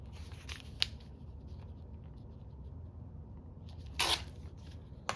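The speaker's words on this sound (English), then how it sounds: "Don't want to cut too much off." Scissors snip washi tape for a thin-strip paper collage, a few short close crisp cuts with soft handling rustle between them and no talking.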